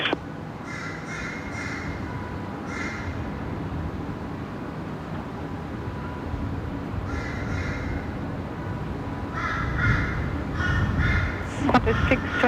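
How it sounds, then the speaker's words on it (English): Crows caw in short repeated bursts at Brisbane Airport, several calls in clusters over a steady low rumble of airport ambience, with a faint voice in the background. "we get a lot more crow sounds"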